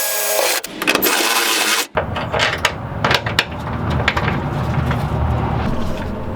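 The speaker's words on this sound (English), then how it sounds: "I'll drill the other one out just because." A power drill bores out a bolt hole on a BMW E30 during a Garagistic secondary differential mount install, a loud continuous whirring grind that briefly stops, then resumes with rattling, clanking metal over a sustained roar.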